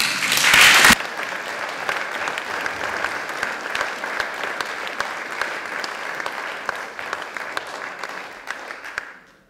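Hustings audience applause fills the room: a sustained, dense patter of many hands clapping, loudest at the start and gradually thinning before fading out at the end.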